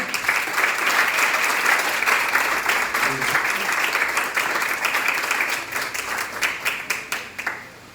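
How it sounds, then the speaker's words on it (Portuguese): A congregation at an evening church service applauds the Lord with full, steady clapping from many hands, which thins toward the end into fewer, distinct individual claps. "Aplauda o Senhor."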